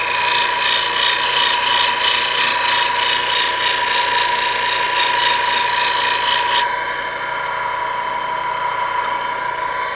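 A tool edge grinds steadily against a sharpening surface, a loud continuous rasping hiss whose pitch shifts partway through as the bright upper edge drops away; close, with no talk.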